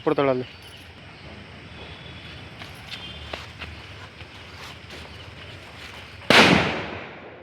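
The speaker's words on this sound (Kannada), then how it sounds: "ಸಿಕ್ಕಾಪಟ್ಟೆ ಸೌಂಡ್ ಬರ್ತೈತೆ ಫ್ರೆಂಡ್ಸ್ ಆಟಮ್ ಬಾಂಬು" A large Diwali atom bomb firecracker bursts with one loud, sharp blast near the end, after a smaller crackling pop at the start, amid quiet outdoor festival ambience.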